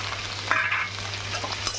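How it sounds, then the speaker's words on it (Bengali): Yardlong beans are added to a pan where potato and radish are already frying in oil, setting off a steady close sizzle with a brief louder crackle as they hit the pan. "এবার বরবটিটা দিয়ে দিচ্ছি।"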